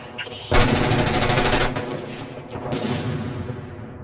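Heavy gunfire and booming mortar blasts in a shooter video game, loud and dense from the half-second mark, with a brief lull before a second burst of rapid fire.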